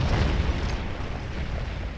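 Artillery batteries firing in Scourge of War Gettysburg, a dense, rumbling roar of overlapping booms that stays loud and continuous.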